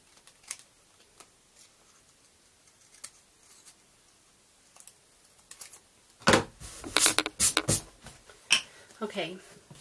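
Scissors snip along the edges of stamped craft paper in a close, quiet tabletop setting, a few faint crisp cuts at first, then a louder cluster of sharp snips and paper rustling near the end.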